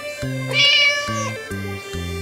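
A cartoon cat gives several short, clear meows in a row, close and fairly loud, with no talking over them.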